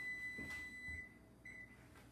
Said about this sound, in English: there goes my timer